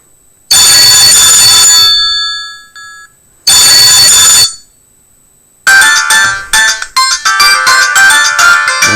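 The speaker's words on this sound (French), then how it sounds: "on va personnaliser la sonnerie pour vous faire voir le son de la sonnerie qui est très très fort" A very loud ringtone from a big-button Clap Luxe mobile phone: two long blaring electronic bursts separated by a pause, then a rapid, choppy melodic ring pattern, close and piercing.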